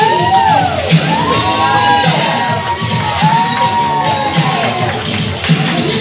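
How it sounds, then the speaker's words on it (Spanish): Cheering at a quinceañera entrance, where a festive crowd roars with shouts, whoops and high whistles close by, loud and continuous over steady clapping. "y demos ese fuerte aplauso a estas mamitas que van bajando ahorita."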